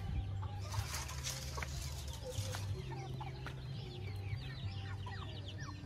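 Chickens cluck steadily at close range, with a rooster-like call and chirping birds in a busy farmyard background.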